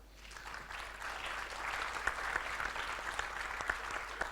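Audience applause at a corporate summit panel in the APAC region, a steady wash of clapping that swells and holds for several seconds with a few sharper individual claps standing out.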